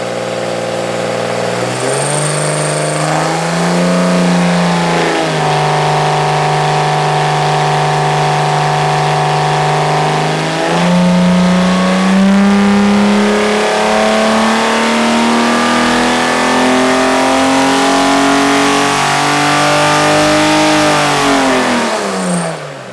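Chrysler 225 slant six engine on a dyno, revving steadily upward toward 6,000 RPM, a loud continuous rising engine tone held for over twenty seconds before dropping off at the end.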